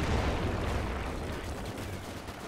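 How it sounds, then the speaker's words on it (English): Mortar fire on a wartime battlefield in Company of Heroes 2, a dense, continuous rumble of distant artillery thuds and gunfire with no clearly separated blasts. "And he's using his mortar to counter their mortar."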